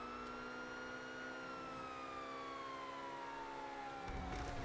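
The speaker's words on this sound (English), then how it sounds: "I definitely need to upgrade my sirens again" A video-game police car siren wails steadily nearby, its tone sliding slowly downward, with a faint rumble of traffic beneath and a slight rise in noise at the end.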